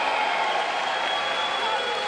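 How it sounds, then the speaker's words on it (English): Crowd cheering and shouting at the 2025 Pokémon World Championships on Championship Sunday, a dense, steady roar of many voices filling the arena throughout. "perfect season complete, Gabriel Fernandez, make some noise!"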